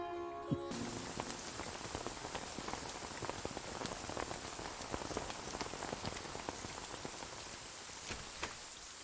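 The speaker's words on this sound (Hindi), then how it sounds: "अरे बाप रे, कितनी बारिश हो रही है" Heavy rain pours down steadily on a surface, a dense continuous hiss full of sharp drop impacts, close and loud, after a brief musical tone at the very start; no voices.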